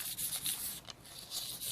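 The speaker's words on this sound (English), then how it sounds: "So I'm just sanding it" Light sanding over silver paint on a crafted piece makes a soft, rhythmic scratchy rubbing, with repeated short close strokes and a brief pause midway.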